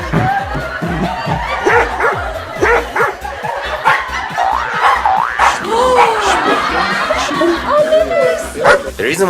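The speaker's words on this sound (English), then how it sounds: "Is that a dog in there?" Dog barking played as an office prank, repeated loud yips and bow-wows with whimpering in an indoor workspace, mixed with people talking and reacting close by.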